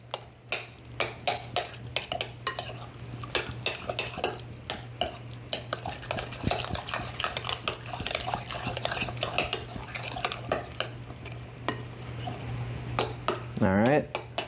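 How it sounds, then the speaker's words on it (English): Ingredients for a meat-sauce lasagna are mixed in a bowl with a pinch of salt, giving repeated sharp clinks and scrapes of utensil against bowl in an irregular rhythm over a steady low hum. "give it a mix until everything is well combined"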